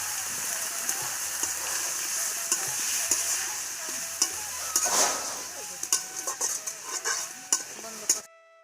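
Onions frying in a pan for a Bengali fish curry, a bright crackling sizzle with irregular scraping stirs and clinks from a utensil, close and fairly quiet, ending abruptly.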